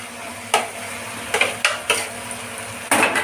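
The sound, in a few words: taro pieces added to oily spice paste in pan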